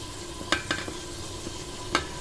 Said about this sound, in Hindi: मसालों को फ्यू सेकंड्स के लिए मैं प्याज अदरक लहसुन के साथ इसको अच्छे से भूनूंगी